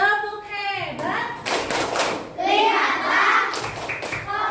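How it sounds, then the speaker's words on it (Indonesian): In an Indonesian classroom, students perform a rhythmic group clap chant led by the teacher, with bursts of sharp claps in patterned groups alternating with chanted voices. "Sekarang kita lakukan tepuk hebat, Bu. Tepuk hebat."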